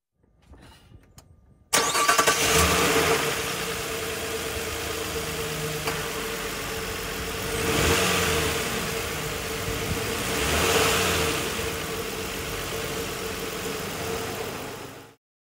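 A car engine cranks and fires after a short quiet start, then settles into a steady, fairly loud idle with two gentle rises in revs; no voices are heard.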